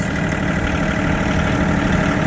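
A tractor engine idles close by, a steady low rumble with a constant mechanical vibration that holds without a break.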